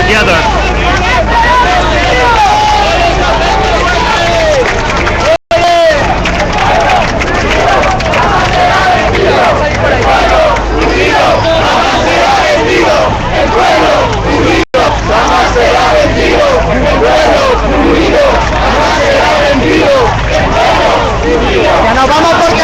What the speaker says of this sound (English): The crowd has locked arms and is marching together.